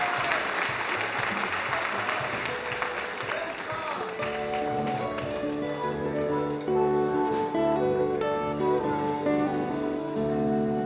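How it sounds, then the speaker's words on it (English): An audience applauds the tech crew at a tribute concert, clapping heavily at first, then continuing as music with sustained tones rises in and dominates the second half. "Let's give a big round of applause for the tech crew here"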